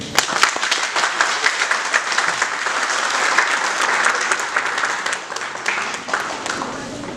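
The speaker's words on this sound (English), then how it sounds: "A big thunderous applause for him." Thunderous audience applause at a legal career seminar, a loud, dense roar of many people clapping that stays full and sustained from start to finish.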